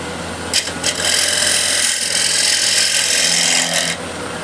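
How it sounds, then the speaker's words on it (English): A scraper turning a walnut or cherry plate on a lathe: a continuous rough, hissing scrape over a low motor hum, close and steady, with a few knocks at the start. "I find using something like a scraper like this much more convenient, easier to control the shape and everything."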